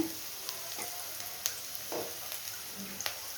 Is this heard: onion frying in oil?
yes